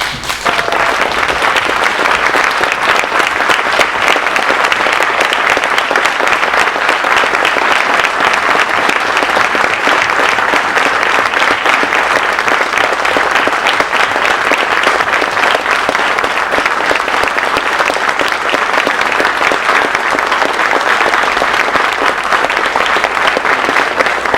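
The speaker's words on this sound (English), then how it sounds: "stand and give them a round of applause." Sustained, dense applause from a large standing audience, steady and loud throughout without a break.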